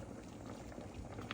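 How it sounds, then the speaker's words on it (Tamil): Purple yam sweet with sago left to boil in a pot, giving a steady low bubbling simmer that runs evenly throughout at close range with no voices. "இது நல்லா கிடந்து கொதிக்கட்டும்."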